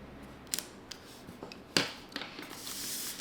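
Paper creased while folding an origami ninja star, with a few sharp crisp crackles and taps followed by a soft rustle, close and alone.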